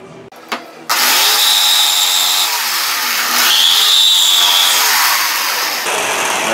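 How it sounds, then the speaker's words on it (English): A jigsaw cuts through a tube in a hinge-jig workshop project: after a brief start, a loud, steady buzzing saw note runs throughout with a rising whine partway, close and alone. "cut it out with a jigsaw right now."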